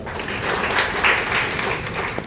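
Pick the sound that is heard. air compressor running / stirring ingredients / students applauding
students applauding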